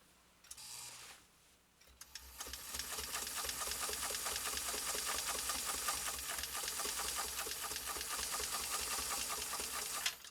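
A PFAFF 360 sewing machine stitches through six layers of heavy commercial canvas, starting after a brief pause and then running in a steady, loud, continuous mechanical whir with rapid needle clatter.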